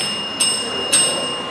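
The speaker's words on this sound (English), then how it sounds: "you will hear the bell ring twice" A timing bell at a speech event rings twice, two clear bright strikes about half a second apart, each with a ringing tone that lingers over a faint steady hum.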